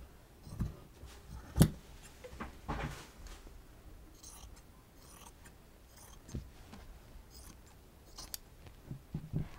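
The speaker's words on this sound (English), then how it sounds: "I've already cut my sides, so I'm just going to cut the sleeves out." Scissors snipping through a t-shirt to remove the sleeves, a few close, soft cuts and rustles of fabric with quiet handling noise between, no talking.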